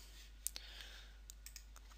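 Mouse clicks while reloading a web browser page, a handful of sharp, quiet clicks spaced irregularly over steady low background hum.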